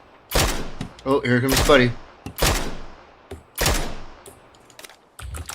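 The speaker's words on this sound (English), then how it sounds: "There's another guy shooting at me from over here to the left, too." Enemy gunfire in a video game shooter, several sharp bursts of shots spaced across the moment, loud and close, with someone talking briefly between them.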